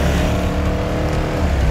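A motorcycle engine roars steadily during a city riding lesson, a loud continuous close-up drone as it accelerates, with no talk over it.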